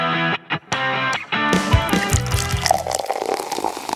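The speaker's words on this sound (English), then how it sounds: "Gotta have the pour." Ithaca Flower Power craft beer poured into a glass, a close gurgling glug that settles into fizzing and dripping after a couple of seconds, with no talk.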